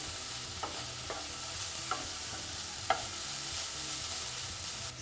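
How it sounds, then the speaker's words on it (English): Steady soft sizzling of navy beans or patties frying in a pan, with a few faint clicks of stirring scattered through it. "I'll be frying it until it's just a little bit soft"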